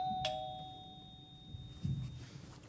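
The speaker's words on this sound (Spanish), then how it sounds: "Ay, por fin, me salvó la campana. Es la Carmen, abre tú." A single two-tone doorbell chime sounds in a Chilean telenovela home, fairly clear at first and then decaying under quiet room noise, followed by a faint shuffle.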